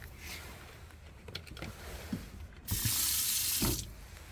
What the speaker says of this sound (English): Okay, that's a water pump.